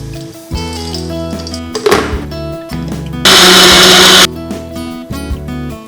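A kitchen mixer grinder runs loudly and close, whirring through palm candy, roasted nuts and flour, its pitch shifting as it starts and stops, with a harsh, intense burst of grinding in the middle.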